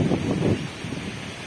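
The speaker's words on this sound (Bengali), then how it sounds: "ঝড়ে এখনো বাতাস চলছে, দমকা হাওয়া, আর সঙ্গে একটু বৃষ্টি।" Gusty wind in the aftermath of Cyclone Remal buffets the microphone with low rumbling surges, strongest at first and then easing slightly, over a brief stretch.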